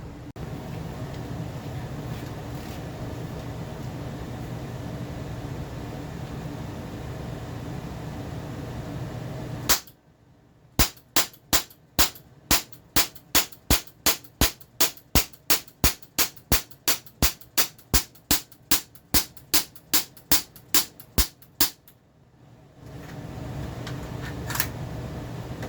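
A Cybergun Baby Eagle airsoft pistol rapidly fires about twenty ASG BBs into Play-Doh, sharp evenly spaced cracks in a steady burst, loud and close, after a stretch of background hum.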